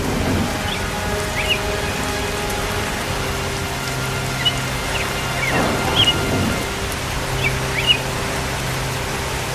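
Steady cartoon rain patters down continuously as a broad wash of noise, with a few brighter drops and faint chirps over the top and a low hum beneath; no one speaks.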